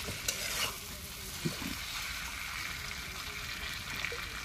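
Snake curry with potatoes being stirred and fried in a pan, a steady close sizzle with a few scraping knocks from the stirring near the start, and no talking.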